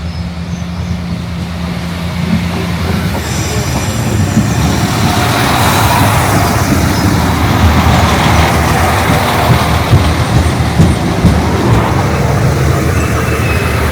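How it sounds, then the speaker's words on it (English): A train pulls in to Enfield station with a low, steady rumble that slowly swells and draws nearer over the whole stretch, joined midway by faint squealing and hissing. "Here's the train coming in to Enfield."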